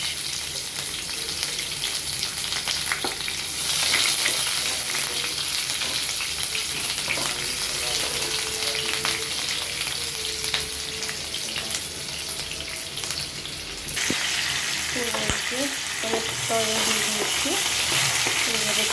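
Onion sizzles steadily in hot oil seasoned with panch phoron, a dense constant fry with occasional stirring scrapes, close and loud throughout with no talking.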